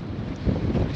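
Wind blows hard across a microphone on the coast of Ærø during sea trout fishing, a steady low buffeting roar that swells slightly near the end, with no voices.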